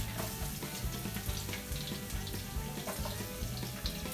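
Garlic frying in hot oil with mustard seeds for curry leaf Maggi noodles, a dense continuous sizzle with crackly pops, close and steady, with no talking.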